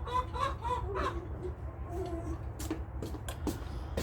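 Chickens clucking in a furniture workshop setting, a series of short clucks and squawks close by over a steady low background hum, with a few sharp clatters toward the end.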